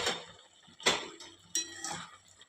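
Carrot halwa with milk being stirred in a pan on a medium flame, heard as a few sharp scraping clinks of a spoon against the pan spaced about a second apart, with softer stirring in between, close and moderately loud.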